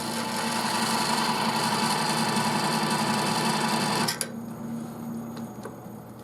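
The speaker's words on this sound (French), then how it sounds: "On commence délicatement et on plante la roulette dans la bague délicatement." A knurling wheel presses into a ring turning on a lathe, giving a loud, steady mechanical whir with a buzzing tone that cuts off abruptly near the end, leaving a quieter hum.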